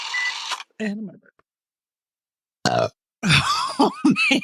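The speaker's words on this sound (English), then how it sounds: "And my burp." Several loud, drawn-out burps from a man on a podcast, separated by short silences, with croaky throaty tones and a few longer belches toward the end, close to the microphone.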